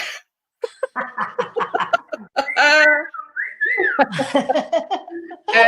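Close, loud human whistling in quick chirpy bursts and a sliding wolf-whistle-like phrase, mixed with laughter and brief vocal sounds.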